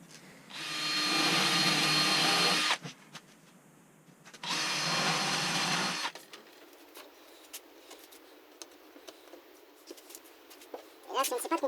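A drill with a depth-set bit bores into a wooden board in two loud sustained bursts of a few seconds each, separated by a short pause, followed by quieter handling noise and faint clatter.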